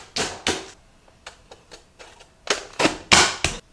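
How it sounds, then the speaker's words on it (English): A manual chopper dices a peeled onion: sharp, close clacks come in quick bursts of two or three, with a brief run of lighter taps in between. "I'm just gonna put it on my chopper here and we're gonna give it a dice"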